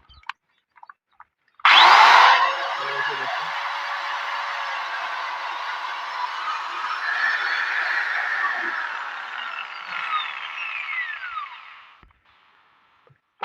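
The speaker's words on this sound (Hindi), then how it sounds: "और ये ड्रिल आपको चलाकर दिखाऊंगा" An electric drill powered from a home solar panel setup switches on with a sharp start, then runs in a steady whine for about ten seconds before spinning down, with a few faint clicks before and after.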